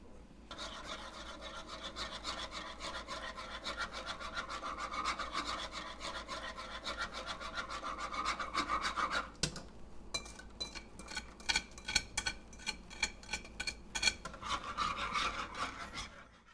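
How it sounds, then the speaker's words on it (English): A whisk scrapes rapidly and rhythmically around a pan as a dairy-free nectarine basil gelato mix is whisked in, with steady brisk strokes, a short pause, then choppier strokes. "I'm slowly going to whisk this mix back into the pan until it's well incorporated."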